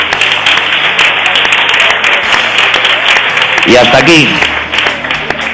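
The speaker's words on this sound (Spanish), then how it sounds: "Un aplauso" A crowd at the grand final of a regional cultural olympiad bursts into loud, dense applause, with a brief voice rising over the clapping partway through.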